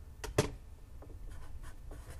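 Writing an answer by hand, likely pen or pencil on paper, during a probability math lesson: a few quick, faint scratchy strokes close by, with short pauses between them in a quiet room.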